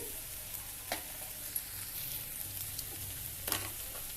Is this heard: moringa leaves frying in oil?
yes